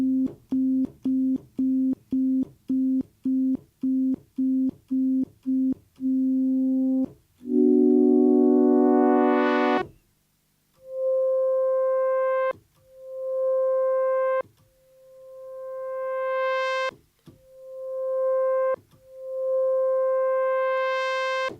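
Yamaha DX7 FM synthesizer tones play alone: a run of quick repeated notes, then sustained bright notes with reduced carrier attack that swell in gently instead of striking sharply.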